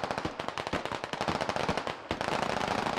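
Rapid automatic gunfire rattles through a firefight in the video game Squad, a dense, fast string of sharp cracks that barely pauses once before continuing at full volume.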